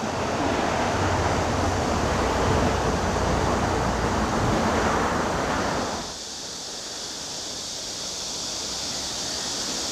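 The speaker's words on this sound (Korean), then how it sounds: "드디어 동굴피아 폭포가 보이기 시작하네요." A waterfall on a forest trail at Namsan in Ulsan, South Korea, makes a loud, steady rushing roar that drops abruptly to a quieter, softer wash about two-thirds of the way through.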